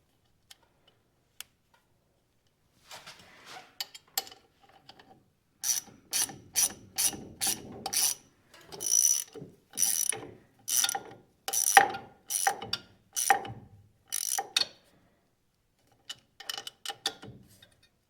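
A hand ratchet tightens a grease zerk into a ball joint, sounding as bursts of rapid clicking strokes, a few quiet clicks at first and then a run of loud, evenly spaced ratcheting passes with short pauses between them.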